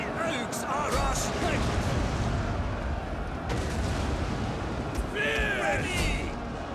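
Artillery barrage in the Total War: Rome 2 battle game, with a dense rumbling din of explosive impacts and battle noise throughout, and someone talking over it.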